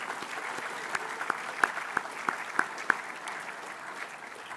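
A boys' school assembly crowd claps in a round of applause, a steady dense patter with a few sharp louder claps standing out near the front, at moderate level with no talking over it.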